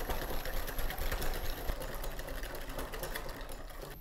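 Egg yolks are whisked with sugar and cornstarch until pale, giving a steady, close mechanical whirring drone that runs throughout without pause.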